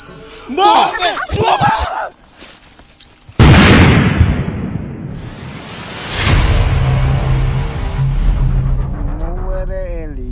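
A loud comic bomb blast effect in a Sri Lankan comedy sketch hits suddenly after talk and music, a sharp boom trailing into a rumbling decay, followed by another swelling whoosh and low rumble.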